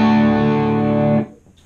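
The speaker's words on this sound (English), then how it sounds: "you're just now starting to get that breakup now with the volume set at 12 o'clock" A PRS Blistertone 50 guitar amp with its volume at 12 o'clock breaks up into a sustained, distorted chord, ringing loud for over a second before being cut off abruptly.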